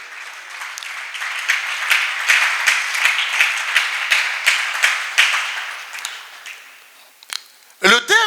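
A congregation at a church service breaks into sustained applause, a dense wash of many hands clapping that fades toward the end before a brief voice cuts in.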